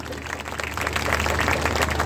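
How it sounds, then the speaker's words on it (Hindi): A crowd applauds at the end of a devotional Khatu Shyam kirtan, with brief continuous clapping over a low hum, moderately loud and with no speech. "हमारी टीम के लिए एक बात ताली हो जाए"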